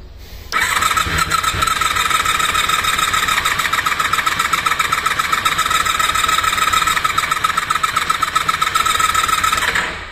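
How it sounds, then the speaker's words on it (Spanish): A 1990s-era Honda VFR NC30 sport motorcycle engine cranks steadily on its electric starter with the spark plug caps pulled off, a fast, even churning whir that holds loud and close for nearly ten seconds without catching. "ahora lo que voy a hacer es sacar las pipas de bujía y le damos al arranque"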